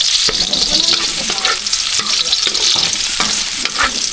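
Onion and garlic sizzle loudly in hot oil while being stirred, the frying hiss steady and close with intermittent scraping stir strokes, no voices.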